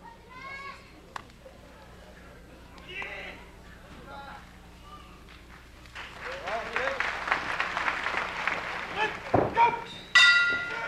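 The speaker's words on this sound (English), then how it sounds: "There's the bell. This matchup is underway." At an All Japan Pro Wrestling title match, the ring bell clangs near the end to start the bout as crowd cheers and applause swell, with commentators speaking throughout.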